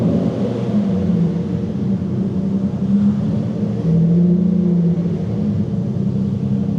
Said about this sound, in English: That's a Lamborghini Diablo you're hearing.